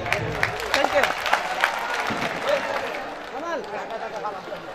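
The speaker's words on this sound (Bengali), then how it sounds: "আমরা করতালি দিতে পারি নিশ্চিত।" Audience clapping at a school and college gathering in Bangladesh, a steady wash of applause with scattered sharper claps, moderately close and continuous throughout.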